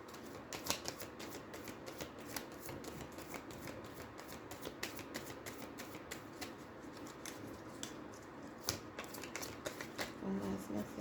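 A deck of tarot cards is shuffled in quick, crisp, riffling flicks that continue steadily at close range and low volume, with faint speech in the background.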